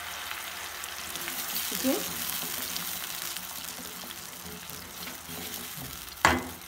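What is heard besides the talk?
onion and green chili paste sizzling in hot oil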